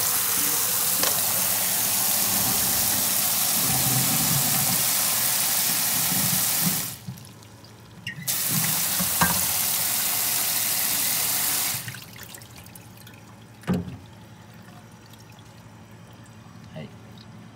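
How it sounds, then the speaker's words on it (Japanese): Tap water runs steadily into a sink while salt is rinsed off cabbage for white kimchi. The water stops twice briefly, and there are small clunks and splashes of handling. "塩を洗ってください。"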